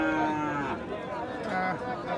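Australian cross-breed bulls at a village cattle market give a long, low moo close by, with a busy crowd murmuring and people talking around it.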